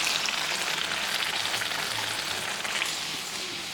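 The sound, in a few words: bhatura frying in hot oil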